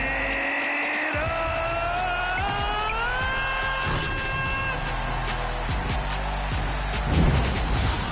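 A car engine revving effect plays in an NBA 2K22 arena during the fourth quarter, with a rising engine whine, rapid gear shifts and tire squeals amid crowd noise, closing in a louder burst.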